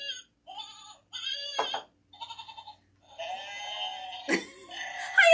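Goat bleats from a novelty toy, several short, nasal, wavering calls in quick succession with brief gaps between them, close and fairly loud, with no talk over them.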